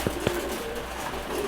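At feeding time, Chila pigeons give a low drawn-out coo after two quick sharp taps, held steady under constant loft noise.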